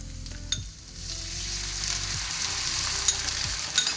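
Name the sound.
capsicum frying in a pan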